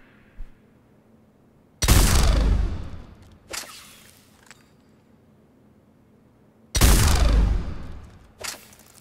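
Two heavy Executioner pistol shots from Mass Effect 3, fired at a target range with a long pause between them. Each loud crack rings out and decays over about two seconds, and a fainter click or echo follows it.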